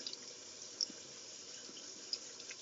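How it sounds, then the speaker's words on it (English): Warm tap water running into a sink while a bag is being rinsed, a quiet steady faucet hiss with a few faint drips and splashes. "turn the water back on, nice and warm"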